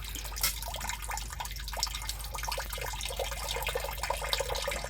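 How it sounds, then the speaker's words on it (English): Fluid trickles and drips steadily from drained filter housings under a 2025 Ram Cummins truck, a continuous close splashing patter with small irregular drops over a low background hum. "we'll let those filter housings drain"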